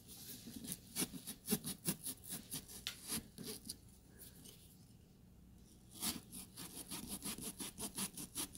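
A small stainless steel saw from a pumpkin carving kit cuts through a pumpkin with quick, rhythmic back-and-forth rasping strokes. They are close but quiet, and they pause briefly midway before the sawing resumes.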